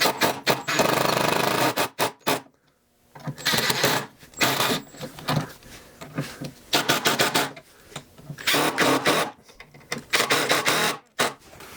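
A power driver runs screws into workbench casters in loud whirring bursts, stopping and starting several times with short pauses between screws.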